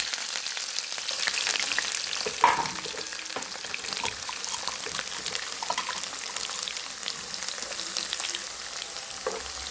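Garlic, dried red chillies and curry leaves frying in hot oil after mustard seeds have popped, a steady close sizzle with crackles and small pops across the whole stretch, no talk.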